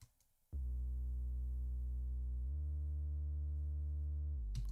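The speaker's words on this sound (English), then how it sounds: "The second one is basically just a sub bass to give it a little bit more weight." Sustained sub bass synth layer from a slap house track, a deep, steady low hum that starts abruptly, holds for about four seconds with a slight shift in tone midway, then cuts off.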